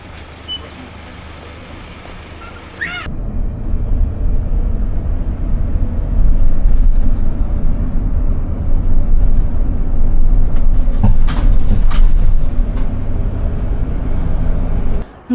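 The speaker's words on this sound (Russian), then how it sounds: "Ну вот, автобус приехал на ЖД-станцию в городок" City bus pulling into a railway station in a Spanish town, its diesel engine rumbling loudly and close, with a sharp hiss of air brakes and clunks as it settles.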